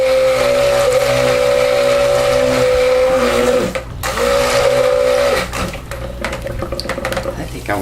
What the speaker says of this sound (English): let me just blend these up real quick